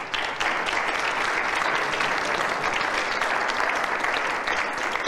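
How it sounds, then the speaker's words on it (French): An audience at a talk applauds warmly: dense, steady clapping from many hands that stays even throughout, with no voices over it. "On peut les applaudir chaleureusement."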